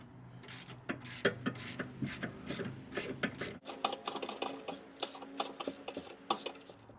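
A ratchet fitted with two long extensions undoes a bolt in a run of quick, rhythmic clicks and metallic pawl ticks, close and clear, with short pauses between bursts.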